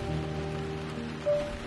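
Rain falls outside with a steady, even patter on surfaces, a constant close wash of sound with one brief louder swell near the end.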